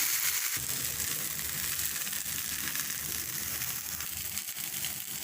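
A horse gram dosa sizzles on a hot pan after being flipped, giving a steady, close crackling hiss that runs throughout with no pauses.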